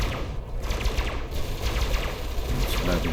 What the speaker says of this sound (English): I'll fire the frag cannons